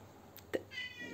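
A pet cat meows a couple of short times indoors, close and fairly quiet, with a faint background hiss.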